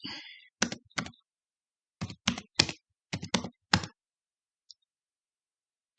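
Bursts of keyboard typing, quick clusters of key clicks separated by short pauses, close and fairly quiet with no talking.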